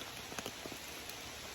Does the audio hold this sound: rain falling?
yes